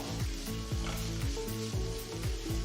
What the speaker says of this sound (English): Fry the onions till they turn to a nice golden brown color.